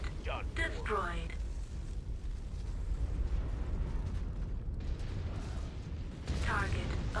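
An enemy mech is destroyed in MechWarrior 5, with a deep, sustained rumbling explosion and crackling debris bursts under a radio-style voice and in-game chatter.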